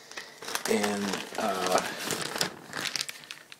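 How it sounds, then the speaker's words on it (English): A plastic bag crinkles in bursts as half a tomato is stored in it, close and fairly loud, with someone talking over it. "I'm going to put the tomato, half of tomato that I have left in a plastic bag"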